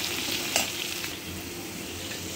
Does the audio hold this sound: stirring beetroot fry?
yes